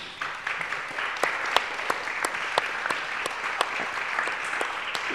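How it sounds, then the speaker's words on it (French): Audience applauding two guests at the close of a talk, steady dense clapping from a room full of people with a few louder individual claps standing out, continuous throughout. "Je pense qu'on peut les applaudir"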